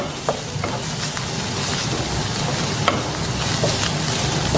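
Onions sizzling in hot oil in a pan while being stirred, a steady dense crackle with occasional scraping clicks, no talking.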